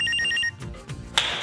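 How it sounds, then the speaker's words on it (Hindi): A phone ringing with a short electronic ringtone that pulses several times, followed by rustling and a sharp click. "अरे लगता है 20 लाख का फोन आ गया"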